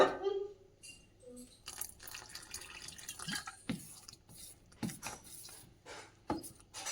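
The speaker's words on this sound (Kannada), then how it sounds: "ಈ ಥರ ಒಂದು ಸ್ವಲ್ಪ ನೀರು ಹಾಕೋಣ, ಸ್ವಲ್ಪ ಗಟ್ಟಿ ಇದೆ" Small splashes and drips of water landing in a thick paddu batter, with soft scraping and knocking sounds in between.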